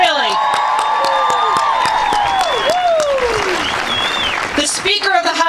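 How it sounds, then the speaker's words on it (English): Loud, sustained crowd applause and cheering for Assemblywoman Pat Egan-Jones at a March for Our Lives rally, dense clapping with shouts and whoops running through, fading near the end before a fresh burst. "So give her a round of applause, people, really."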